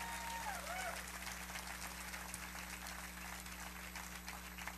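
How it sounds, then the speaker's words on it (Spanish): A church congregation claps together during an evening worship service, a broad wash of applause sitting over a constant low hum, with a voice briefly heard at the start. "Ahora dale un aplauso al Señor antes de sentarte."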